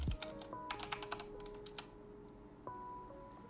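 A password is typed on a computer keyboard: quick, uneven bursts of key clicks close by, then a few scattered taps. The setting is quiet, with a faint steady hum underneath.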